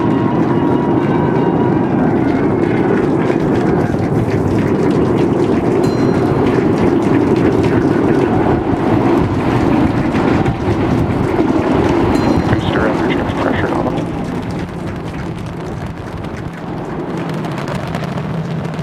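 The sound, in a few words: SpaceX Super Heavy rocket launch, Raptor engines roaring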